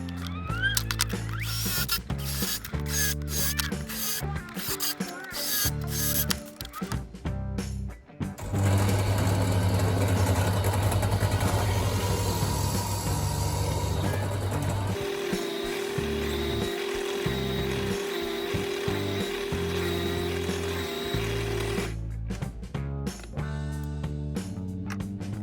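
A power drill whirs in sustained high-pitched runs while pilot holes are drilled and countersunk in the wooden tiers of a raised herb planter, with steady motor drone broken by shorter bursts.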